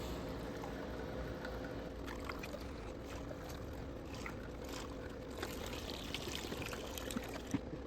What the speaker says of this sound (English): I just dump it into the radiator just to flush it out